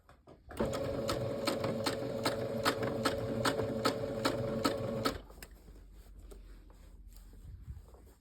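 A sewing machine stitches a trouser fly zipper in one steady run of rapid, rhythmic mechanical clatter lasting about four and a half seconds, then stops, leaving quiet handling noise.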